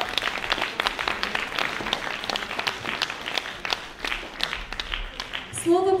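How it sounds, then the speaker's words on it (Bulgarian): An audience at a gala concert of arts studio performers claps in a dense burst of applause that continues throughout, with a voice speaking over it near the end. "Да им пожелаем успех с шумни аплодисменти!"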